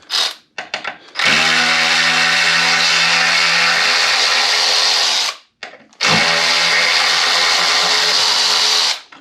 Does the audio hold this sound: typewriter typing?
no